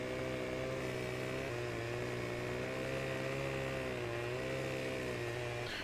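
A chainsaw in the Farming Simulator 15 video game cuts down a tree, its steady buzzing engine drone running loud and continuous with slight pitch wavers throughout.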